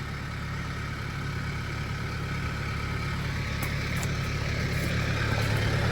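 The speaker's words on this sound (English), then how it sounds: "I just gotta get my tractor over here to put it in there." Steady low rumble of an idling tractor engine, continuous and moderately loud for the whole stretch, with no voices over it.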